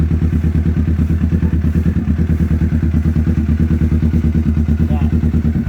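Kawasaki Ninja 650 motorcycle engine idling up close, a loud, even, rapid thumping pulse that holds steady throughout.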